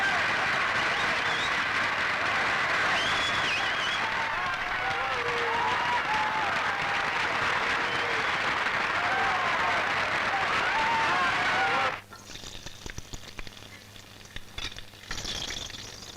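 Sustained, dense crowd applause follows a film song contest between Anil Kapoor and Meenakshi Seshadri, loud and unbroken for about twelve seconds before cutting off abruptly into quieter room sound.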